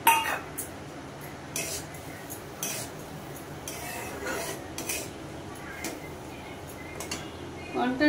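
Shelled prawns salted and coated in turmeric drop into a dish for a prawn cocktail, with clinks of cutlery and dishes plus a few soft knocks, while a voice talks quietly over them.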